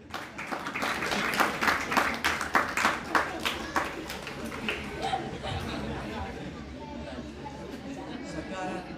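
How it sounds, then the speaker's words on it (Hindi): Audience applause at a spiritual discourse: a hall of listeners claps in a steady dense patter for several seconds, loud at first and then thinning, with murmured chatter mixed in. "देखो आपने ताली बजाई"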